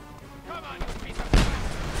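Gunfire in Just Cause 2 cracks out, one loud close shot standing out amid scattered blasts while someone talks over the action.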